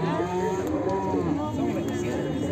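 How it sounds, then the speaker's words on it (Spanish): A dairy cow at a livestock market moos in one long, loud, close bellow lasting several seconds, with the noise of the busy market behind it. "si quieres comprar una vaca lechera para tu rancho"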